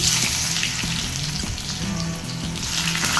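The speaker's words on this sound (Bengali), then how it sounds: "তেল গরম হয়ে গেলে এবারে দিয়ে দেওয়া হচ্ছে জিরে আর তেজপাতা ফোড়ন এরপর ডুমো ডুমো করে কেটে রাখা আলু" Cumin seeds, bay leaf and diced potato fry in plenty of hot oil, giving a loud, steady sizzle and crackle with a few soft knocks, close up and without talk.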